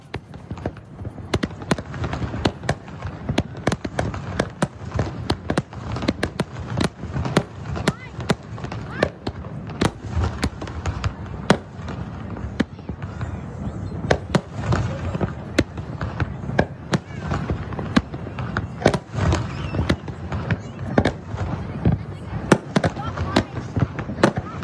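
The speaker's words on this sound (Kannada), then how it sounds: "ಪ್ರಸಿದ್ಧ ರಹಾ ಬೀಚ್ನಲ್ಲಿ ಆಕರ್ಷಕ ಲೈಟಿಂಗ್ ಶೋ ಹಾಗೂ ಬಣ್ಣ ಬಣ್ಣದ ಪಟಾಕಿ ಸಿಡಿಸಿ ಹೊಸ ವರ್ಷವನ್ನ ಸ್ವಾಗತ ಮಾಡಲಾಯಿತು" Fireworks and firecrackers burst continuously at a New Year celebration on Raha Beach, Abu Dhabi, a dense crackling barrage of sharp pops and booms that barely lets up, with a crowd murmuring beneath.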